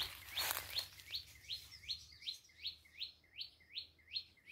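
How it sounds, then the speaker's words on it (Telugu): Small birds perched in a lychee tree in a garden chirp in a steady, evenly spaced series of sharp, high calls, moderately near with a quiet background. "ఆ పిట్టలు చూడండి ఎట్టరుతున్నాయి"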